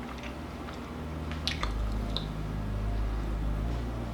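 Crunchy air-fried lemon pepper chicken wings being chewed close to the mic, soft squishy crunches and a couple of sharper crisp bites over quiet background.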